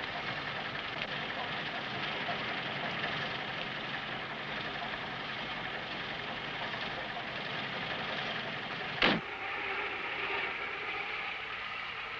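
A steady, low rumble of a train running, constant throughout with a single brief clunk near the end; faint voices underneath.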